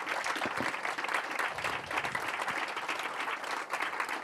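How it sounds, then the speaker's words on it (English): Audience applause for two professors at an event on putting the environment at the heart of economic decision-making, a sustained, even patter of many hands over four seconds, moderately distant with no voices. "can you give a round of applause to these two amazing professors?"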